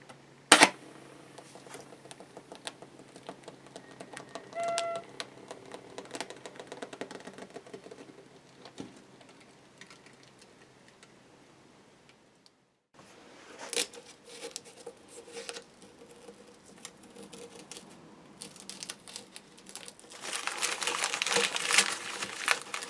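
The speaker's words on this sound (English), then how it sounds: "So we're going to take off all our masking and stuff now" Masking tape is peeled off a Yamaha G55A guitar during refurbishment, giving soft crinkling and sticky tearing sounds with scattered taps and rustles, quieter in the middle and louder, denser ripping toward the end.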